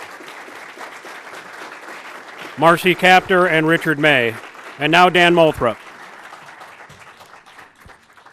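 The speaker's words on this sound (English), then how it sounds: "go ahead and show your applause for both candidates" Applause for the two candidates in Ohio's 9th District congressional debate at the City Club of Cleveland, a soft steady clapping that continues beneath a voice announcing names in the middle and lingers faintly afterward.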